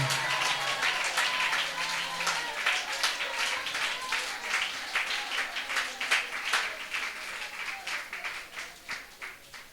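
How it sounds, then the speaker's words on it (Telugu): A church congregation claps along in worship at a 2021 New Year service in Bhadrachalam. The quick rhythmic clapping continues throughout, moderately distant and steady, with a low hum briefly underneath at first. "చేతులెత్తి చప్పట్లు కొడుతూ ప్రభుకు స్తోత్రాలు చెల్లిద్దాం."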